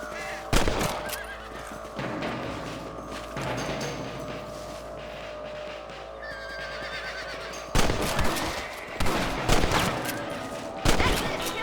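Rifle gunshots in Red Dead Redemption while shooting rabbits outdoors, with a few sharp reports spaced seconds apart standing out over a steady game ambience and a background hum.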